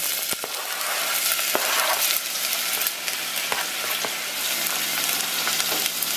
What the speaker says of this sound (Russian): Also slightly fry the onion.